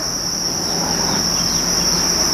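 Farmed crickets chirping in a rearing box, a loud, steady, close-up high-pitched trill that runs without a break.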